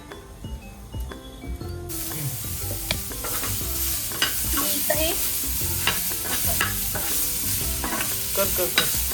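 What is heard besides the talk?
onion, tomato and chilli roasting in pan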